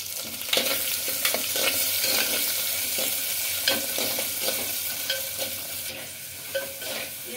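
Onions and green chillies fry in a clay pot with a steady broad sizzle, punctuated by frequent stirring scrapes and light clicks throughout.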